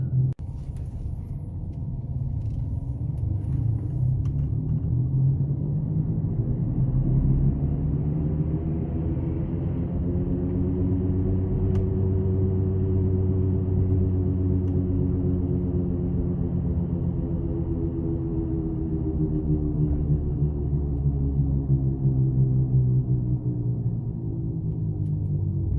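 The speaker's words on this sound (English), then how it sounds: "So the noise ended up being a right front hub bearing." A steady low car rumble with a droning hum that swells and fades slightly, continuous and fairly loud for the whole stretch, from a car with a worn right front hub bearing, no talking.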